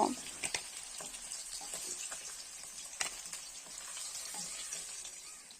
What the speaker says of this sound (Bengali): মাছগুলোকে আমি একটু লাল লাল করে ভেজে নেব